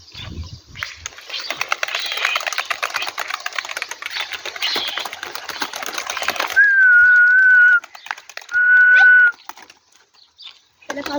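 Pet pigeons or doves in a coop, with a burst of wing flapping and rustling followed by two short sustained coos, close and fairly loud.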